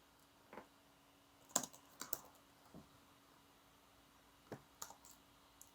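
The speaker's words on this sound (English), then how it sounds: "we're going to keep on typing" Sparse computer keyboard keystrokes, a handful of separate clicks and short bursts spread across quiet pauses, close and fairly soft with no one talking.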